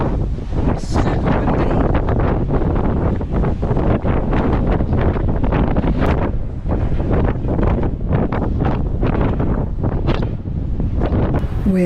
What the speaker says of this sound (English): As you can tell, it's super